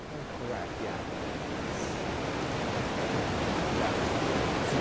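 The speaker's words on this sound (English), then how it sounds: "It's the waterfall to lead up to the cave." A steady, wide rushing roar of a waterfall in the Ragnarok map of the video game Ark: Survival Evolved, leading up to a cave, continuous and even with no talk over it.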